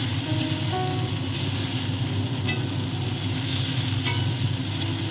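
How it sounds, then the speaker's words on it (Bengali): Boiled pasta stirred and fried with oil and chili in a pan, heard as a dense, steady sizzle that is loud and continuous, with faint occasional scrapes and no talking. "তারপর ভালো করে নাড়াচাড়া করে মিশিয়ে দিতে হবে তেল, লঙ্কা আর পাস্তাটাকে সুন্দর করে এরপর ভাজতে হবে।"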